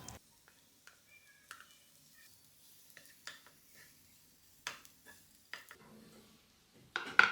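Mashed potato being mixed with onions in a pan while making masala bonda, with soft, faint scraping and stirring sounds and a few light clinks of a utensil against the pan, quiet and close, ending in a louder scrape.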